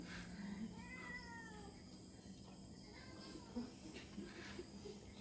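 A black cat meows faintly in a few short, rising calls early on, soft against a steady low hum and background noise.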